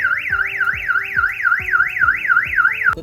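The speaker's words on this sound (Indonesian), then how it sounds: "membunyikan alarm yang ada di sistem bencana banjir" A flood early warning system alarm, triggered by high water level and heavy rainfall, wails in a fast, steady up-and-down electronic siren pattern, loud and close, with rhythmic pulses for about three seconds before cutting off.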